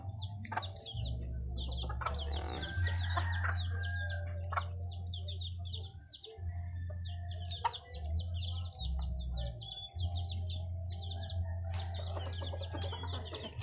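Laying hens cluck softly and repeatedly in short bursts, with small birds chirping around them over a steady low hum.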